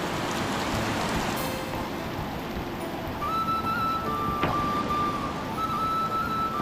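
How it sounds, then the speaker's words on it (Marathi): Heavy monsoon rain pours down in Konkan with a dense, steady roar, close and loud, and a brief faint tone partway through. "हे बघा जोरदार पाऊस चालू झाला आहे आता."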